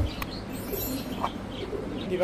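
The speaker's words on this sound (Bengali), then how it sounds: "পাকিস্তানি রামপুরি কবুতর" Pakistani Rampuri racing pigeons coo in a brief, low, rolling burst close by, over a steady background hum, with a faint chirp or two mixed in.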